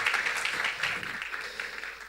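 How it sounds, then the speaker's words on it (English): Applause from a conference audience at Big Data Week, steady and moderately loud throughout, with no one speaking over it. "Big round of applause, everyone,"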